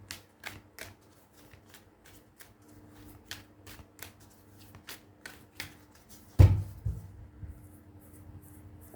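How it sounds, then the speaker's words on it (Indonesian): Tarot cards being shuffled and drawn, a long series of crisp, close card snaps and flicks at a brisk irregular pace, then a heavier thud of cards laid down and a few softer handling sounds. "Saya akan ambil 9 kartu."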